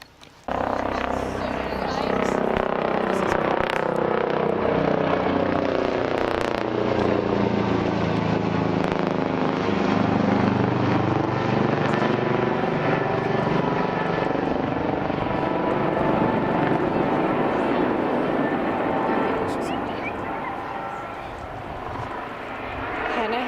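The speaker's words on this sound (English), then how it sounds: "We can hear the helicopter coming, so we're moving to the side of the beach." A rescue helicopter approaches a river beach on the Salmon River, its loud, steady rotor thump and engine whine building and filling the air for over twenty seconds, easing slightly near the end.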